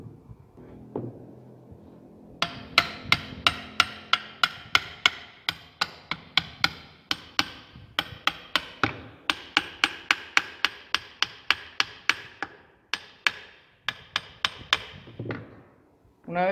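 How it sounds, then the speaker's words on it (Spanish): A hammer drives a control arm bushing on a Ford Ka, Fiesta or EcoSport, a long series of sharp metallic blows in quick bursts with short pauses, close and loud. "vamos a buscar un martillo."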